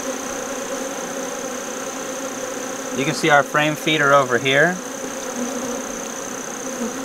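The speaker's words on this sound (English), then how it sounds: "Look at all those bees." Honey bees buzz steadily around a hive fitted with a frame feeder, a soft constant hum under brief nearby talk.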